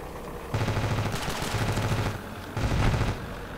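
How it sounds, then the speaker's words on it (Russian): An old military assault rifle rattles in the video game Ravenfield, three loud automatic bursts close up with brief gaps between them. "стреляет он, кстати, достаточно точно, несмотря на то, что ему, наверное, сотня лет уже этому автомату"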